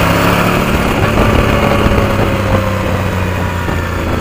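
A Suzuki V-Strom 1000 motorcycle engine runs steadily at idle nearby, a continuous even drone with a low mechanical hum and no revving.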